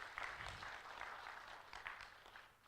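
Audience applause for a TB program at a TB and lung health symposium, a soft, steady patter of many hands clapping that holds for several seconds before fading at the end.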